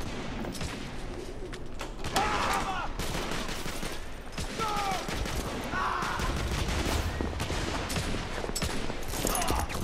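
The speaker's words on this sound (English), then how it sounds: "There's a firefight going on." A video game firefight with steady gunfire bursts and rattling shots from a distance, mixed with ambient noise and bird-like calls, running continuously.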